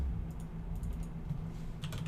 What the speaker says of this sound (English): sorry for the typing, it's loud